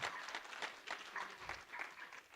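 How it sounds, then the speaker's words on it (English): Round of applause from a small audience at a technical talk, faint, distant clapping in uneven bursts. "one last round of applause"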